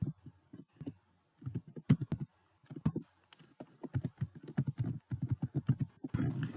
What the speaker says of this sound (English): And so on, you keep on typing.